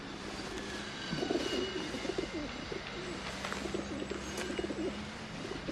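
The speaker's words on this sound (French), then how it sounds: "ce sont des pigeons voyageurs" Homing pigeons cooing close by, a series of soft throaty coos repeating over a low background hum, with no talk.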